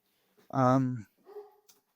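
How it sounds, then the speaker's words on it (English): A dog barks once in the background, a short, loud, tonal bark followed by a fainter trailing sound, in a home as the postman arrives. "We just got probably the postie come with some dog barking."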